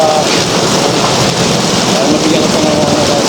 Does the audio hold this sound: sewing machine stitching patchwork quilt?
no